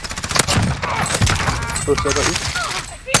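Bursts of automatic gunfire in Call of Duty Warzone, sharp repeated cracks and rattling volleys amid chaotic game sounds, with a player talking over it.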